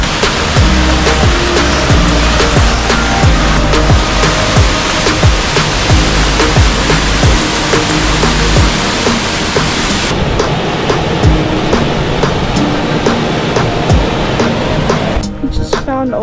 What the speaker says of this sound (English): We've been listening to the waterfall, we could hear it.